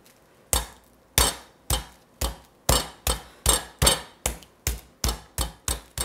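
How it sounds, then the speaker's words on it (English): Chicken breast pieces are pounded flat for chicken parmesan, about a dozen sharp thuds landing in a fairly regular rhythm, each dying away quickly between blows, close and clear with no talking. "Now, I still wanna pound them flat, flatter than they are now,"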